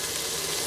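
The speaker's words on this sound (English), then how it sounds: "So as you can tell, it's starting to sizzle" A ranch-seasoned pork chop sizzles hard in a Bella pressure cooker, a dense, loud, continuous frying hiss heard up close with no talking.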